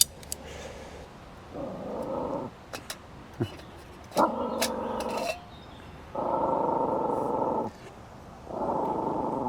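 A dog out in the woods growls in long, rumbling stretches broken by a few sharp barks, fairly close and loud, with outdoor quiet between the bursts.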